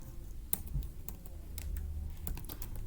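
Keystrokes clatter on a computer keyboard in an uneven run of close, crisp clicks, a few louder taps standing out over a low steady room hum.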